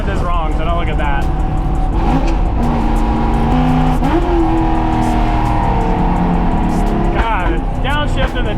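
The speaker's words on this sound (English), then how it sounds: "the downshift and the diesel is brutal on this thing" A NASCAR-inspired Ford F100 with a diesel downshifts and revs hard on a mountain road, loud engine harmonics rising and falling close by, with a voice talking over it.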